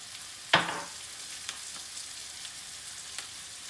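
Mushrooms and garlic hitting a hot pan give a brief sizzling burst that fades into a faint, steady frying hiss, with a couple of soft clicks from the pan.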